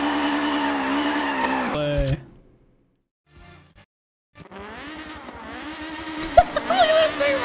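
A tiny BMW Isetta microcar being drifted, its small engine droning and revving loud and close, cutting out briefly before rising again, with a short tire squeal near the end.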